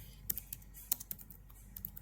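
Fingers tap a computer keyboard in a short burst of quick, uneven clicks, close and fairly soft, with no speech.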